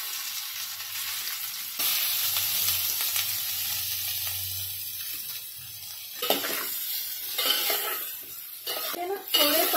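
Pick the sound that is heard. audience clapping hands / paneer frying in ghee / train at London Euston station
paneer frying in ghee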